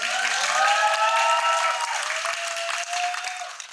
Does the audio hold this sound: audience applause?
yes